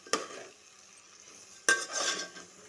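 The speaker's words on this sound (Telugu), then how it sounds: "రైస్ ఆయిల్ కొంచెం సేపు ఇలా తిప్పండి ఆయిల్లో" Rice being stirred and fried in oil with vegetables in a pan, two scraping stirs of a utensil with a light sizzle between them, close and fairly quiet.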